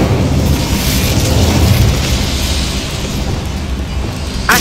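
A roaring fire-spell blast in the Hogwarts Legacy game, the Incendio charm, fills the clip with a loud, sustained rumbling whoosh that stays dense throughout and ends with a brief sharp burst.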